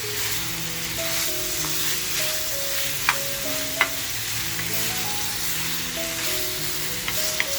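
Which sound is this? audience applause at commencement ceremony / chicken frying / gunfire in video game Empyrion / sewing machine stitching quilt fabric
chicken frying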